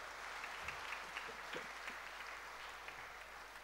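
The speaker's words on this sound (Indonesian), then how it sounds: "Kita tepuk tangan untuk anak-anak kita ini." Catholic congregation in a parish church claps for the children during a bishop's Sunday homily: soft, distant, even applause that stays level for a few seconds in a reverberant space.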